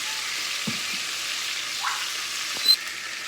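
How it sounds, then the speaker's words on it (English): Steak meat browns in a hot pan with a steady, even sizzle that holds for a few seconds, with a couple of faint clinks, close by and without speech. "once your meat is browned on both sides, put it on a plate"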